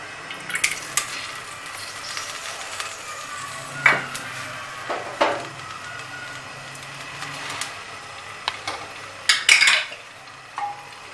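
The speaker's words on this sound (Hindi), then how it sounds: "थोड़ा 2 से 3 मिनट हम इसको चलाएंगे" A spoon scrapes and clinks against a cooking pot while garlic, ginger and onion are stirred for a chickpea curry, with scattered metallic taps over a soft, steady sizzle.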